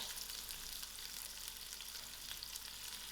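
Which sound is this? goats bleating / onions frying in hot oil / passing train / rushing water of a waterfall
onions frying in hot oil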